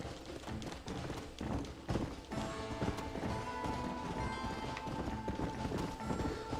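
Busy Red Dead Redemption game audio with rhythmic thudding horse hooves clip-clopping along under a dense wash of ambient sound and music.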